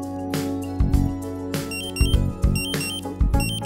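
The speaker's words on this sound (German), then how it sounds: "Der A1-Voralarm ertönt, wenn die Konzentration höher ist als der eingestellte Schwellenwert." A Dräger Pac single-gas detector sounds its A1 pre-alarm: loud, shrill electronic tones that repeat in short bursts with brief gaps and a buzzing pulse under them.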